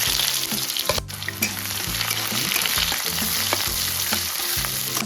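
Onions drop into hot oil seasoned with cumin for a village-style chicken curry, giving a loud, steady close-up sizzle with stirring scrapes under the constant crackle.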